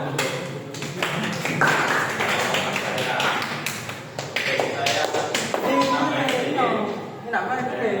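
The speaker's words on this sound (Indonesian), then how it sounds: "Tepuk tangan." Students in a classroom at SMK Merdeka Ulujami, a vocational high school, clap their hands in sharp, dense, uneven bursts that run nearly the whole time. Voices mix in with the clapping.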